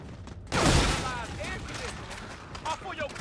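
Gunfire from a weapon with straight vertical recoil in Call of Duty: Infinite Warfare Zombies, The Beast From Beyond map: one loud blast followed by a busy spread of lighter shots and effects, with talking over it.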